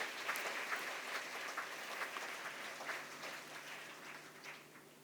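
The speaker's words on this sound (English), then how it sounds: "I'd like to ask for a big round of applause for Linda Erker and Aisha Dursun." Steady, fairly faint applause from a symposium audience, a dense patter of clapping that holds evenly throughout without voices on top.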